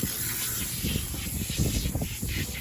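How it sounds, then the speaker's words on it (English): Tire cleaner sprayed onto car tires, a close hissing aerosol spray in short bursts over a soft rubbing background, no voices. "And then we're gonna spray on here."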